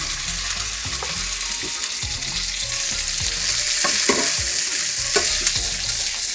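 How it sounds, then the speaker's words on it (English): Fish skin laid into melted butter in a pan aboard a sailboat in the Bahamas, frying with a steady close sizzle and a few sharper crackles and pops, no talking. "The butter is melted. We put this skin down."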